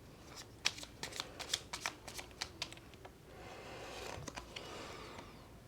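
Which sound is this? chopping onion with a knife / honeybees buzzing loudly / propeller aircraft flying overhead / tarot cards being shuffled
tarot cards being shuffled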